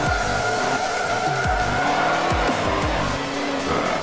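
A truck drifts sideways in the racing game Forza Motorsport 7, its tires squealing continuously over a loud, revving engine whose pitch sweeps up and down throughout.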